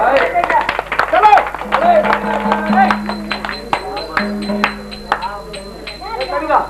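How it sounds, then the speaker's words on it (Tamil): An audience at a village Kuravanji drama performance claps in scattered bursts, the sharp claps mixed with a voice and other people talking, some ringing tones, and busy background noise. "சார், கைத்தட்டு கைத்தட்டு."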